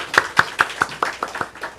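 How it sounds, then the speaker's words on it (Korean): Inside a church during a morning worship service, the congregation claps briskly in a quick, regular run of about eight crisp claps, close and moderately loud. "우리 하나님께 영광의 박수 한번 올려드리겠습니다"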